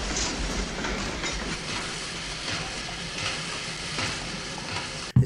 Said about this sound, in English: Is this that rich guy's train?